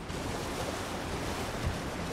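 Steady, dense rushing roar of a waterfall in the video game Elden Ring: Shadow of the Erdtree, loud and continuous with no breaks or voices.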